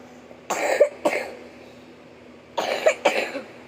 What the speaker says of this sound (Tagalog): inuubo kasi po ako